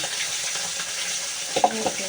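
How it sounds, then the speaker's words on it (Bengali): Fish frying in a pan in a home kitchen gives a faint, continuous sizzle, with a few soft clinks and knocks near the end and no talk over it. "মাছ ভাজা বসিয়ে দিয়েছি"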